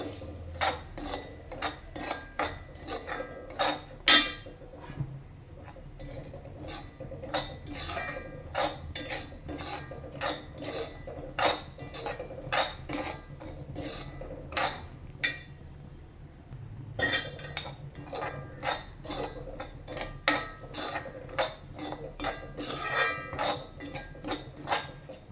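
Semolina for upma roasting in a pan, with a steady run of metal spoon scrapes and clinks against the pan at close range, briefly pausing midway before resuming.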